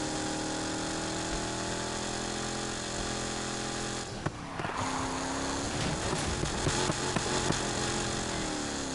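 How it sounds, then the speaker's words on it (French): A Lamborghini Huracán engine in the racing game Need for Speed Heat idles with a steady mid-pitched hum, then revs sharply with rising and falling pitch sweeps and crackling bursts, loud and close. "le bruit du moteur est très bien"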